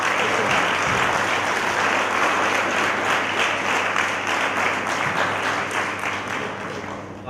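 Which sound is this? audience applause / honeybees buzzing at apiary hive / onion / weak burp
audience applause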